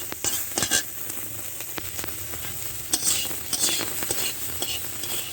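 Food frying in a pan with oil gives a steady close sizzle, broken by sharp scraping and clicking as it is stirred and turned, with no voices.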